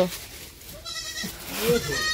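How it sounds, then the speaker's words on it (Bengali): A goat bleats a few times on a village homestead where a kid is being brought to nurse, short calls close by with people talking around them. "ছাগল এই পাশে বেঁধে রাখছে তো"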